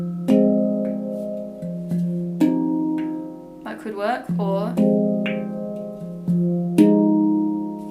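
Major chords struck on a handpan ring out as sustained, bell-like harmonic tones, with several strikes and a brief fluttering roll in the middle, and a person speaks briefly over the tones.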